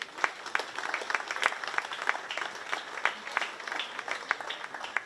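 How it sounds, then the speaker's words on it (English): Crowd applause at a county fair 4-H market beef show, a brief burst of lively clapping from a moderate audience, fairly close and continuous throughout. "let's give them one more round of applause"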